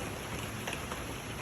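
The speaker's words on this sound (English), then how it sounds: "Enjoy the rain. Embrace the rain. Accept the rain." Rain falling outdoors in a garden, a steady soft hiss of drops hitting surfaces, even and continuous at low level with no voices.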